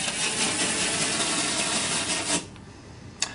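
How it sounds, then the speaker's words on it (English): A rivet brush's bristles scrub adhesive film down onto lightly textured paint, giving a steady, close rasping rub that stops abruptly, followed by a single faint click. "The bristles on the rivet brush just help it get good adhesive contact."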